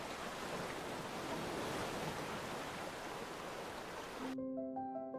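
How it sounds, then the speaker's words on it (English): Ocean surf rolling onto a beach at Punta del Diablo, Uruguay, a dense continuous wash of breaking water that cuts off abruptly into soft music near the end. "The endless expanse of the ocean stretches out, with waves rolling in rhythmic grace."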